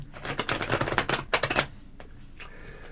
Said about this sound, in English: while she's shuffling the cards